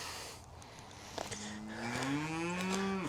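Cattle moo near a barn in long, rising bellows that overlap toward the end, loud and fairly close over a steady background hum, with no talking.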